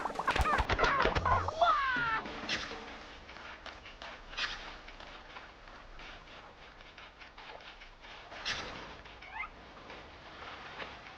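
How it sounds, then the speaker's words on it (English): Cartoonish bird squawks and clucks from enemy birds in the Nicktoons: Battle for Volcano Island video game, a loud burst of calls at the start fading to scattered quieter squawks over ambient game noise. "One of those darn birds."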